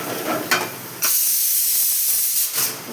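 A pressure cooker vents steam in a kitchen where ivy gourd fry is being cooked, two short hissing puffs followed by a long loud continuous hiss, with no voices.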